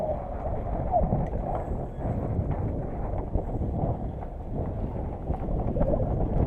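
Strong wind buffets a sailboat under sail, a dense, continuous low roar of gusts against the microphone with water rushing beneath, loud and unbroken throughout.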